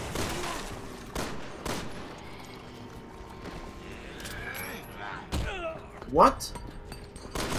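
Gunfire in the video game Resident Evil 6 during a chapel fight, several sharp shots spaced irregularly amid game noise, with a brief spoken exclamation.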